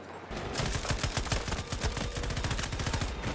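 A light machine gun fires in Battlefield 2042, a loud, close, continuous burst of rapid, evenly spaced shots lasting about three seconds.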